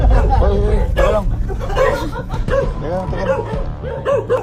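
A dog barks repeatedly, close and loud, in yipping bursts mixed with excited, frightened human voices talking and shouting over it.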